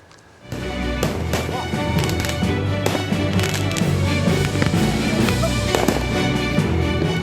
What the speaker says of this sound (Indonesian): Tawuran kembang api dan petasan kerap terjadi di Situbondo, Jawa Timur.